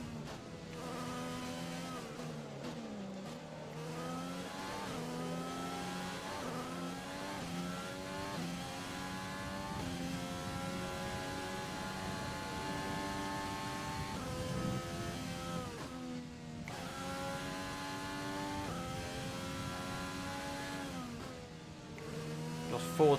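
Formula 1 car engine in the racing game F1 2020, a high-pitched whine rising and falling through gear changes and corners, steady and continuous under occasional commentary.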